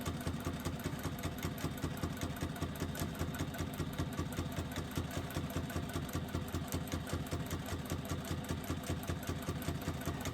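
A sewing machine runs top stitching on fabric with a 3/8-inch seam allowance, its rapid, even needle clatter repeating steadily and alone at close range for about ten seconds.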